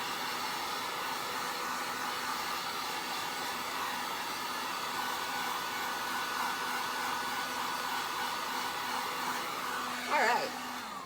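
A hair dryer runs steadily at close range, blowing on wet paint on a thick plastic ornate frame, a constant whirring hum with a brief rise in airflow near the end.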